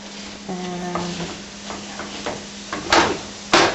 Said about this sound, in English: Mashing it all up, breaking it up into small chunks, moving along nicely